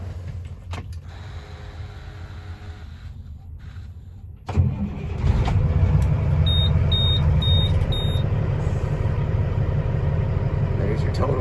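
A 2018 Western Star glider daycab truck with a single-turbo Cat diesel engine cranks over and fires up, then settles into a loud, steady, rumbling idle close by, with faint beeping in the cab.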